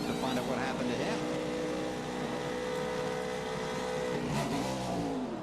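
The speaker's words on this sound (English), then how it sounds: "He was up in the RPM band trying to get that thing revving." A NASCAR Cup stock car at Sonoma Raceway revving high in the RPM band and pulling away on pit road, a loud sustained engine roar with rising and falling pitch, heard alongside broadcast commentary.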